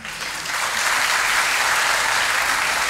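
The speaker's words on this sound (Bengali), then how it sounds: "হাততালি দেওয়ার কিছু নেই" A lecture audience at Vidyamandira breaks into dense, steady applause for Swami Sarvapriyananda, a loud wash of many hands clapping that swells slightly after the start and holds evenly throughout.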